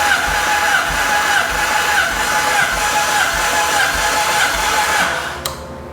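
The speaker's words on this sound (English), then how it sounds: "this is cylinder number 3, wide open throttle, and let's punch the button." A 1983 Kawasaki GPZ 1100 engine cranking on the starter at wide open throttle with a compression tester on cylinder three: a loud, rhythmic chugging whir lasting several seconds, then stopping abruptly.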